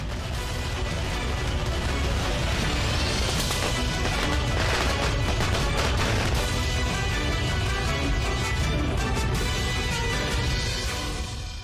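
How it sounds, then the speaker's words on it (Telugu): Children set off firecrackers in a dense, loud barrage of bangs and crackles that overlap continuously for about twelve seconds. "ఈ పిల్లలు టపాసులు కాలుస్తున్నారు"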